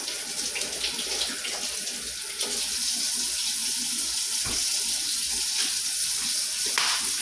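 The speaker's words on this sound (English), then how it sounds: "by washing chicken because we are gonna be having some chicken tacos" Tap water runs steadily into a sink while raw chicken is washed for chicken tacos: a continuous, close splashing rush with small shifts as the pieces are handled, and no talking.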